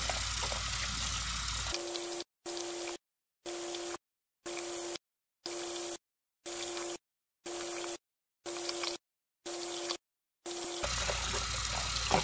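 Tap water runs into a sink while dyed acrylic yarn is rinsed, a steady gush that starts and stops in repeated short bursts between longer stretches of flow.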